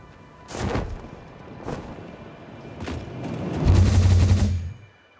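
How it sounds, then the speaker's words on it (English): A hyper cannon fires in the factory-building video game Satisfactory, three sharp booming launches followed by a longer low rumbling whoosh that fades out. "I kind of would rather use my magical hyper cannon over here"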